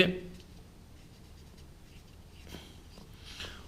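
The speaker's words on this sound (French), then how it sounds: "je vous fais un petit bout de schéma comme ça sur le pouce" Pen drawing an ignition wiring diagram on paper for a Peugeot 103 moped, soft scratchy strokes close by, with a short vocal sound at the very start.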